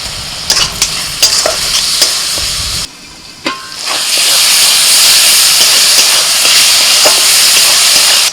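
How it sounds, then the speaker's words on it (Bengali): Spice masala with chopped tomato sautés in oil with a loud, steady, close hissing sizzle that dips briefly and then surges back, dotted with light clinks of stirring. "এখন মশলাটা একটু আস্তে আস্তে কষিয়ে নেব একটু টমেটো কুচি দিয়ে দিচ্ছি"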